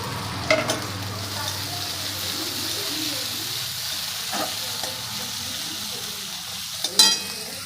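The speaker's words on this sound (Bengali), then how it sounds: "একটু নেড়ে নিয়ে দিয়ে দিচ্ছি টমেটো কুচি আর কাঁচা লঙ্কা কুচি" Chopped tomato and green chili sizzle steadily in a hot pan with ginger paste, with a few scraping stirs and a sharper clatter near the end, close and moderately loud.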